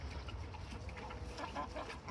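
Farm chickens kept alongside livestock guardian dogs cluck softly and intermittently, faint and somewhat distant against a low background hum.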